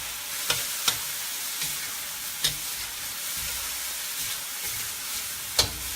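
Garlic chive flowers, pork and fermented black beans sizzling in a pan as they are stirred, with a soft steady hiss and a handful of distinct spatula scrapes against the metal.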